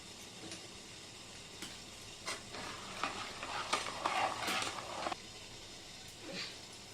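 Coconut milk being stirred in a pot, soft scraping and clinking strokes over a low simmering sizzle, irregular and fairly quiet, with no speech.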